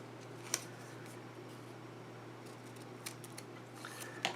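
Scissors snipping a piece off the side of a torn video game box, a few quiet isolated cuts over a steady low hum, with a sharper snip early and a cluster of clicks at the end.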